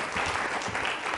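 Short burst of audience applause on a Ramadan special quiz show, dense clapping from a crowd, loud and continuous for about a second.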